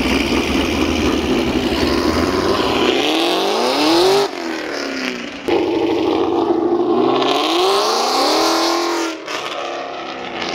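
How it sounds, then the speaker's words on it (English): A very loud car engine roars steadily from close range, with revs climbing and dropping in repeated sweeps and a few abrupt shifts, drowning out any other sound. "I've honestly never heard a car that loud before"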